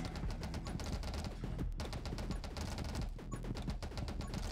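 Rapid, continuous weapon fire from a prism or mirror in a Gungeon-like Vampire Survivors-style game, a dense stream of sharp clicking shots with crunchy hits layered on top, steady and moderately loud throughout.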